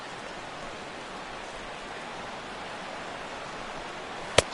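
Steady rain hisses evenly throughout during an April baseball game in Cleveland, White Sox at Indians, with a single sharp click near the end.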